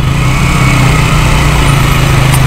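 A small KTM motorcycle engine runs close by with a steady, buzzy drone, holding an even pitch and level throughout.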